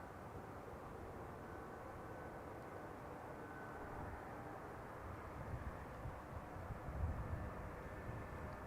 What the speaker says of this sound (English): In anticipation, there it is, of the Emirates A380, there it is.